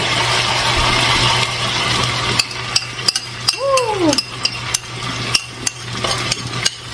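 Honey glaze sauce is being stirred into chicken in a pan, heard as a run of sharp, regular taps and scrapes from the utensil over a low background hum, with a brief squeak in the middle.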